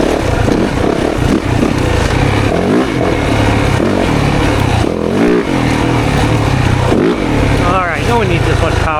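A stock 2024 Yamaha YZ 450FX dirt bike rips through the woods, loud and close, its engine revving up and down in repeated surges and shifts, with a rider's voice mixed in at points.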